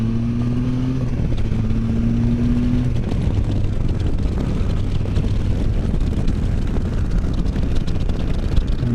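A Can-Am Spyder F3 three-wheeler with a missing cylinder runs along a road, its engine note droning and shifting pitch as it accelerates, with steady wind rush over the microphone throughout.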